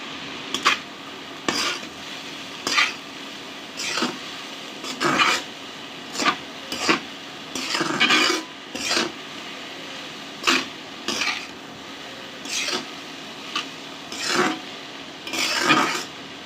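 Stirring ash gourd fry with chopped green chillies in a pan, giving a series of short scraping, rasping strokes at an uneven rhythm with brief gaps between them, close and fairly quiet, with no talking.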